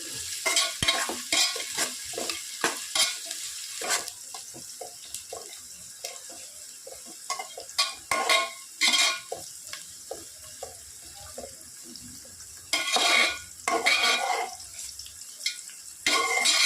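Three whole uncut green chilies tossed into a pan for mushroom biryani, with oily sizzling frying and scraping stirring in uneven bursts, close and fairly loud, no talk.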